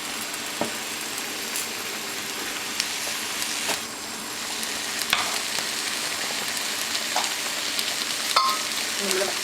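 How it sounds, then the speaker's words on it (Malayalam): Mushrooms and capsicum fry in a pan with a steady, loud sizzle, broken by scattered scrapes and taps of a spoon as the vegetables are stirred, with no talk over it. "അതിനിടെ നമ്മൾ മഷ്റൂംസും ക്യാപ്സിക്കം ഇളക്കി കൊടുക്കുക."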